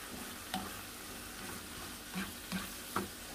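Creamy seafood burger mixture stirred in a pan, with soft scraping and a few distinct utensil clacks against the pan over a quiet, faint sizzle, no talking.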